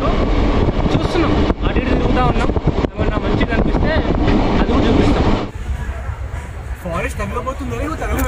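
Moving train heard from inside a carriage, a loud steady rumble and rush that drops abruptly quieter near the end, with people talking over it.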